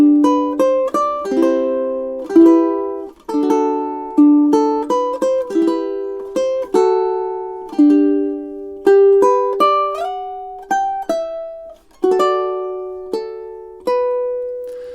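Fingerstyle ukulele playing a relaxing melody, plucked notes ringing out in a steady, unhurried phrase with clear attacks and short decays, close and solo with no voices.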